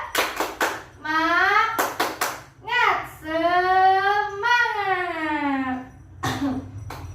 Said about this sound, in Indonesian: coba sebelum ke materi ini kita tepuk semangat dulu